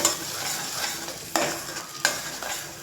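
Paya trotter curry masala sizzles steadily in a pan while being stirred, with two sharp knocks of the spoon against the pan rising above the frying hiss.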